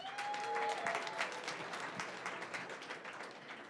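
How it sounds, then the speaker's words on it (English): Applause from a tech startup meetup audience for a sponsor, brisk and fairly quiet clapping from a modest crowd, sustained for several seconds with faint voices mixed in. "Give her a round of applause, guys."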